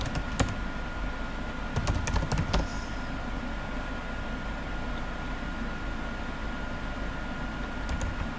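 Someone types on a computer keyboard, with a quick cluster of sharp key clicks near the start and a few more taps at the end, separated by a quiet stretch of steady background hiss.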